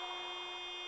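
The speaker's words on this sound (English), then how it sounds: "unfortunately the buzzer has gone, and I think that is it" A steady electronic buzzer sounds continuously at the end of a women's basketball league game, a sustained tone held for the whole moment, fairly faint and without speech.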